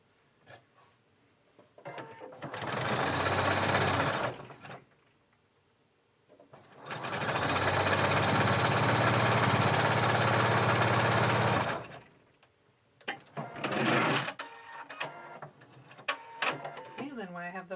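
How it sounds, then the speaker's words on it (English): Sewing machine stitching a knit cardigan waistband, running in two sustained bursts of steady whirring motor hum, the longer lasting about five seconds, close up, with short pauses and handling noise between runs. "Waistband right sides together and sew it across the shorter end."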